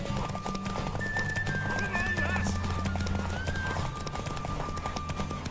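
A horse in a Witcher video game clip-clops steadily and lets out a whinny, close and clear over continuous game music, with no voices.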